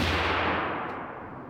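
A suppressed rifle fires one shot in an indoor range, a single broad muffled report that decays over about a second with no talk.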